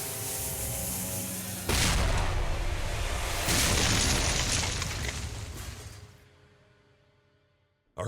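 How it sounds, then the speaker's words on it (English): A deep cannon boom bursts out in a video game as a cannon is fired at a wall, followed by a second blast and a long rumbling roar that fades away to near silence. "I heard the explosion."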